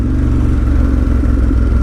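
A 2018 Ducati Monster 1200S motorcycle rumbles loudly and steadily while being ridden, a continuous close engine drone with no speech.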